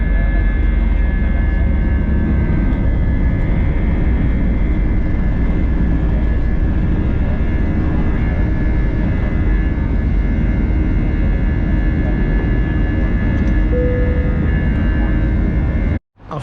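A steady, loud engine roar and broadband rumble fill an airplane cabin on a flight out of Gatwick, with a constant whine above it. The noise continues unbroken, then cuts off abruptly near the end.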